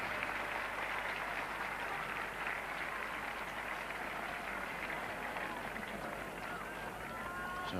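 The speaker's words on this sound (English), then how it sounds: "And to a roar of applause, the 50 partnership coming up with that on drive for 4 by John Edrich." Cricket crowd at the Oval during a 1975 England v Australia Test, a steady broad wash of applause and cheering spread across a large ground, continuous and moderately loud.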